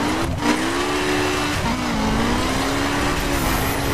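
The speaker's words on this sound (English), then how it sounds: "With nitrous, just flooring it." A BMW M4 in Need for Speed 2015 runs at full throttle with nitrous, a loud steady engine drone holding one pitch that dips and recovers briefly, continuous and close throughout.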